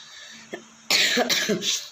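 A couple of harsh coughs burst out close by after a brief quiet moment, followed by a short throaty rasp.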